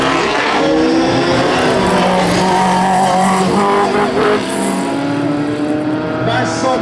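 An Alpine Berlinette racing car climbs a historic hill climb, its engine revving hard and holding a loud, rising note close by, with tire noise and an announcer talking over it.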